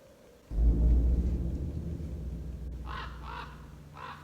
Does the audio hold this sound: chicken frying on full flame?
no